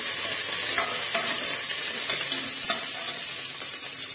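Curry leaves, garlic and onion sautéed in a pan, with a steady close sizzle and frying hiss throughout and a few soft scrapes of stirring, no voices.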